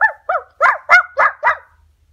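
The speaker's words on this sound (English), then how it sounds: "there's a puppy in here!" A puppy giving six quick, high yipping barks in an even rhythm, close and loud against a quiet background.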